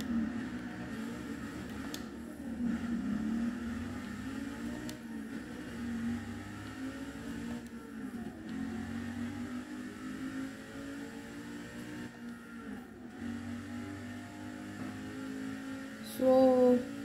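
Car engine in Forza Motorsport 6 in first gear with manual transmission, a continuous droning engine note rising and falling in pitch with repeated rev surges, moderately loud throughout.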